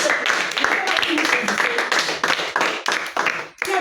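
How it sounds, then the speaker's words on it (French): A children's Sunday school congregation at a church service claps together in rapid, uneven bursts, fairly loud and close, with voices mixed in. "Acclamons pour cela."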